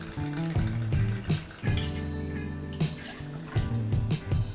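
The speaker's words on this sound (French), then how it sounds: "On va se mettre 6 centilitres de tequila." Tequila pours from a bottle into a cocktail shaker for a margarita, a close, gurgling trickle with glugs and splashes that rise and fall across a few seconds.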